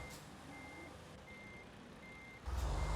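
Truck reversing while parking in American Truck Simulator: three evenly spaced high electronic beeps over a low idling engine rumble, ending in a louder burst of engine noise.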